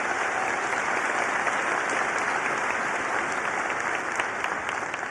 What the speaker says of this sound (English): So I would like to get a round of applause for Dr. Bell for 10 years of tremendous service to the University of Alabama.